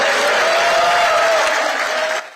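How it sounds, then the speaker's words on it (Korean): Party members at Democratic Party election headquarters burst into loud, dense applause and cheering on exit poll results, a sustained close roar that fades out at the end. "더불어민주당에선 박수와 환호성이 터져 나왔습니다."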